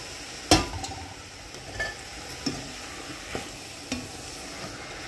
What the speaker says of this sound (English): I'm cooking up the red herring now. That's the season. Frying up.